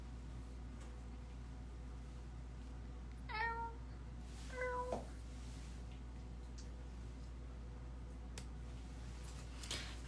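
A cat meows twice, in two short, fairly quiet calls a second apart, over a low steady background hum.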